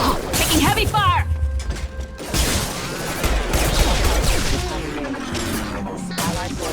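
Heavy gunfire and crashing impacts from a Mass Effect 2 firefight, a dense loud barrage with whooshes and a voice speaking over the combat.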